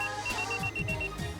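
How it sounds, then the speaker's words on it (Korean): Faint electronic beeping repeats in a quick, regular pattern over a low background hum, like a small pager going off. "그날은 아침부터 요란한 삐삐 소리에 눈을 떴는데요."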